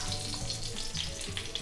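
Curry leaves dropped into hot oil with mustard seeds and a small lump of asafoetida, giving a brief close crackling sizzle with quick pops throughout and no voices.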